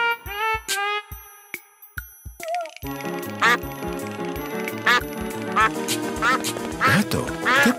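A cartoon duck character quacks several times in short, expressive bursts, alongside bright cartoon music and sound effects.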